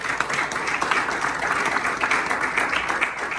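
A church congregation clapping together as an offering of praise to the Lord, a full, continuous room-filling applause of many hands with a steady, slightly rhythmic texture, no speech on top.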